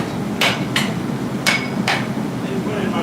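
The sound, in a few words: blacksmith's hammer at a forge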